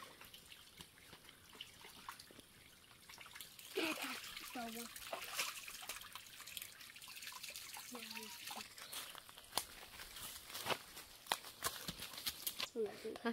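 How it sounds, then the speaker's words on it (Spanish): Water flows and splashes into a stone water trough beside a countryside stream, a steady trickle with sharper splashes, heard under a voice talking nearby. "Miren, qué bonito pilón de agua."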